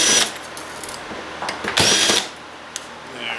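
Power drill backing screws out of a server blade during scrapping, an opening whir followed by a longer burst of driver noise mid-clip, with small clicks and metallic handling between, close and fairly loud.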